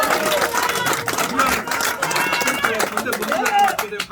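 A crowd packed into a campaign office opening claps steadily with rapid overlapping hand claps throughout, while people talk and call out over the applause.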